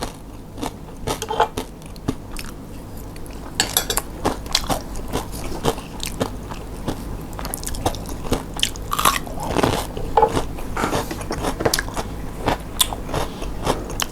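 Close, crisp crunching and chewing of rice with fried egg and crispy pork crackling chili paste, with repeated bites and mouth sounds steadily throughout and no talking.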